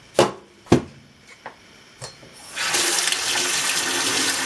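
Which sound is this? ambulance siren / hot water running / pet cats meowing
hot water running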